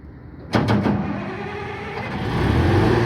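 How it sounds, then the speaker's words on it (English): Engine of a mobile crusher machine being started, with a few sharp clacks followed by a low rumbling engine that builds steadily and grows louder nearby. "Now I'm going to start the machine"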